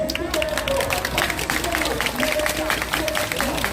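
An audience at the Wednesday protest rally applauds in sustained, scattered clapping from a crowd, with a voice audible over the applause.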